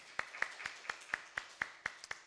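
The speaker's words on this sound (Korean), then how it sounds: "감사의 박수 하도록 하겠습니다" Clapping at a Korean church Sunday service comes as a faint, even rhythm of about nine sharp claps in just over two seconds, distinct single hand strikes rather than a full crowd.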